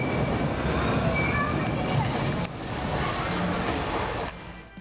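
A wooden roller coaster train rolls along its track with a loud, continuous metallic screech and rumble. The ride is Great Adventure's lost wooden coaster, and the noise fades slightly near the end.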